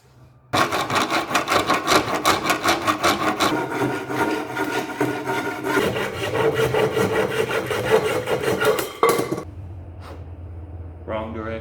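A hand saw cutting wood in a small miter box, with rapid, rhythmic rasping strokes close by that slow partway through and stop near the end, followed by a brief knock and a voice.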